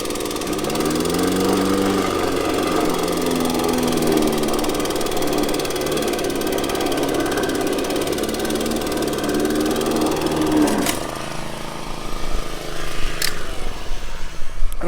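An Etesia LKX2 lawn mower cuts long grass at a low cutting height, its steady close-up motor drone holding a whining, slightly wavering pitch before it drops off and turns choppy with scattered clunks near the end.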